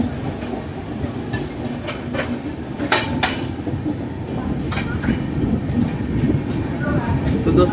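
Sampark Kranti Express 12650 rolling through Morena, heard from on board as a steady, loud rumble of wheels on rail with rhythmic clatter and occasional sharp clanks, continuous throughout.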